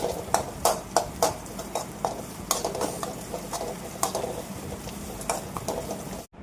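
Ginger paste is stirred into a cooking curry in a pan, with a steady run of wet scraping and spoon clinks against the metal, close up and with no talk.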